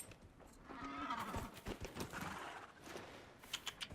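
A summoned horse in Dragon Age Inquisition neighs close by and then trots in with a series of faint hoof clip-clops that grow sharper toward the end.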